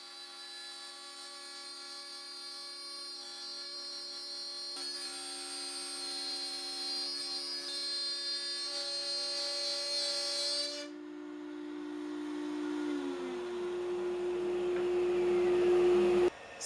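A quarter-inch-shank router bit cuts a slow pass through wood down the centre of a mitre guide with a stop. It makes a loud, steady whine with strong harmonics. Around eleven seconds the pitch drops and the motor winds down, then a final burst ends the clip.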